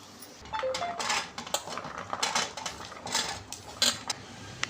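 Dates being pounded by hand in a kitchen, with repeated knocking and clattering thuds at an uneven rhythm, close and moderately loud against light background noise.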